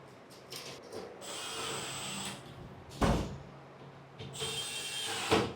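A power driver sets screws through furniture hinges while a kit piece is assembled, giving two or three short whirring bursts with soft knocks and rattles between them, recorded close in a quiet room.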